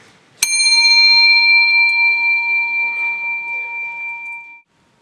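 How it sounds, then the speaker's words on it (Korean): A hand bell held up during a church sermon is struck once, giving a sharp clang that rings on loud and clear with a slowly fading metallic tone for about four seconds. "내가 종소리가 나라고 쳤는데"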